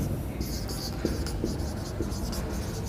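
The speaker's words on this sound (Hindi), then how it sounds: "इस तरफ लिख देता हूँ मैं" Marker or chalk writing on a classroom board gives short, scratchy strokes in quick bursts, close by, with a teacher's quiet voice between them.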